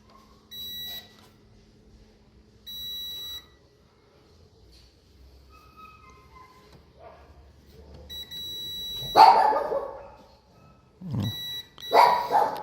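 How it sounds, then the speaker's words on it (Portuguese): A multimeter beeps while car fuses are tested on a 2015 Ford Ka 1.0 with the ignition off. Several short, steady electronic tones come with pauses between them, and a few louder clunks and rustles follow. "Apitou é porque o fusível não tá queimado."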